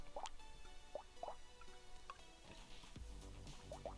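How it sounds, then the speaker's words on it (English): Wet gulps and small liquid plops from someone drinking water, close and quiet, repeating in short bursts over a faint steady background hum. "Excuse me, gonna drink some water."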